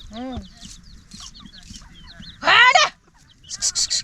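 Chickens cluck and squawk close by, with one loud drawn-out squawk midway and a quick run of short clucks at the end.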